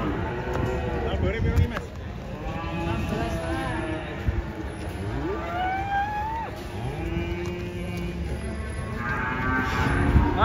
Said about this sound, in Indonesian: Jadi penurunan sapi ngamuk di Pasar Ambarawa.